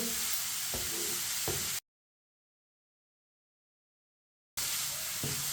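Finely chopped capsicum is stirred into chicken frying in a pan, giving a steady soft sizzle with a couple of light stirring scrapes, broken by a stretch of dead silence.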